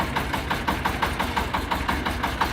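A Shifeng SF 240 three-cylinder mini tractor engine idling nearby with a steady, rapid pulsing chug and a constant low rumble.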